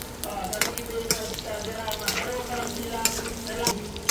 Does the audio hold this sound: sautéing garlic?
yes